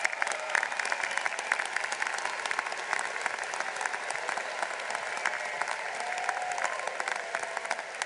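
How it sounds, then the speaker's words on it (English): A large university commencement audience claps for students receiving Latin honors, a continuous, even wash of applause from a big hall, moderately distant and unbroken by speech. "Please give these students an applause."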